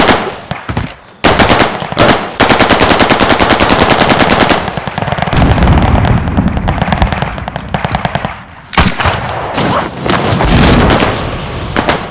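Loud, rapid automatic gunfire in Warzone Pacific comes in sustained bursts broken by short pauses, dense and close, with no talking.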